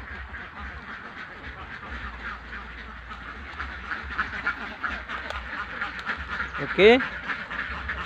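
Village ducks quack from a rural pen next to rice paddies. A loud burst of quacking comes near the end over a soft background, and someone talks throughout.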